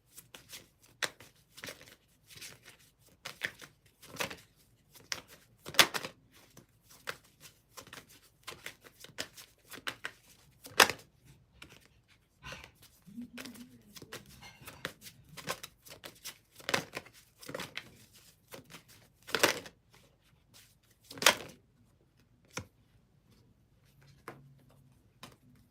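A deck of playing cards being shuffled during an intuitive card reading, with repeated crisp riffles and slaps in irregular bursts, close and fairly quiet, no talking.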